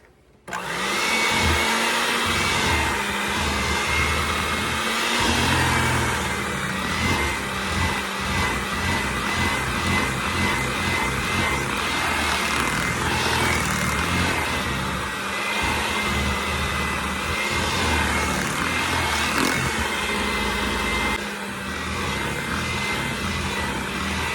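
An electric mixer beats cheesecake batter of eggs and cake mix at medium speed, a loud, steady whirring drone that runs unbroken from start to finish with no talking.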